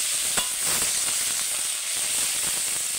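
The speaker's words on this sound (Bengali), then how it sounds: "আমি টমেটো আর পেঁয়াজের সঙ্গে ভেজে নিচ্ছি।" Green jackfruit fries with tomato and onion in a pan, giving a constant bright sizzle with one sharp utensil tap near the start.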